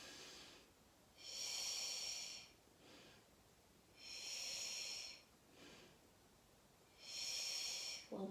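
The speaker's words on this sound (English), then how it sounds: "Inhale in." Three long, breathy inhalations during an exercise routine, each lasting over a second and spaced by quieter pauses, close and fairly soft, with no talking.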